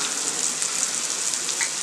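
Chicken pieces sizzling in a pan while being cooked for homemade chicken rolls, a dense, even crackle and hiss close by, continuous and without any talk.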